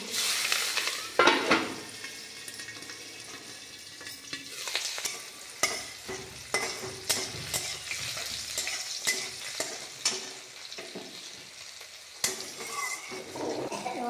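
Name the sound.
green chilies and garlic frying in oil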